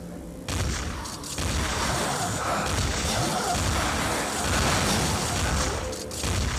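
Explosions and gunfire in the zombie shooter game Dead Target, a dense, loud, continuous rumble of blasts and crashes with some swelling partway through.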